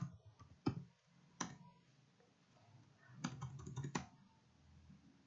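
Computer keyboard keys tapped while entering commands in a network configuration exercise: a few isolated clicks, then a quick burst of typing, fairly close and quiet, with no talking.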